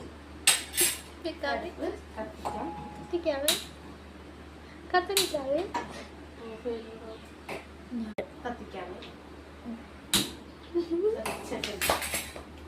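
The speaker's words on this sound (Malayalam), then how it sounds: "നമുക്ക് ചട്ടി എടുത്ത് ഇറക്കി വെക്കാം." A clay cooking pan (chatti) being lifted out and set down, giving a few sharp clinks and knocks spread across the clip over low background noise, with a voice talking between them.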